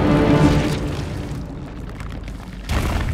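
A grenade explosion in Resident Evil 7 Not a Hero: a loud, broad boom that rolls off into a fading rumble, followed by a second burst of noise near the end, with no talk over it.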